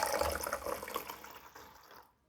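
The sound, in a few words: 300 ml of water being poured into a mixture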